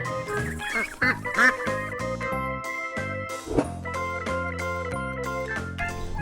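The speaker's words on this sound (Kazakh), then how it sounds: "Үйрек." Nasal duck quacks sound over a bright, steady musical backing of sustained melodic notes, with no talking.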